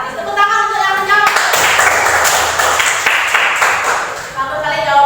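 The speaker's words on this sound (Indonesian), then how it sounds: "Tepuk tangan untuk yang menjawab" A classroom applauds a student's correct answer in a physics lesson on hydrostatic pressure: about three seconds of brisk, scattered clapping between stretches of a teacher talking.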